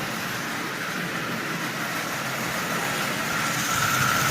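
Marx 999 toy train locomotive, lubed and tuned, running on track while pulling twelve Marx cars: a dense, continuous whirring rumble with rattling wheels, steady and close throughout with no talk.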